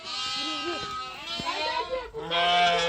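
Sheep and newborn lambs bleating in a barn, with several overlapping wavering bleats close by that sound one after another, mixed with some background voices.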